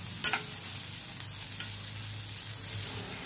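Sliced onion frying in oil with whole spices such as bay leaf, cinnamon, cloves, fennel, black cardamom and star anise for a Konkani cashew chicken masala, a steady soft sizzle with a couple of sharp stirring clinks against the pan.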